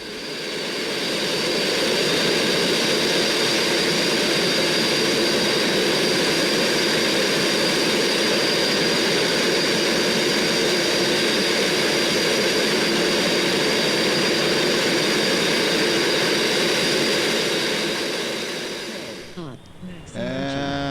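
An F/A-18 Hornet jet engine in the X-Plane 11 flight simulator roars with a steady high whine and rush for most of the stretch, then drops away abruptly at the end.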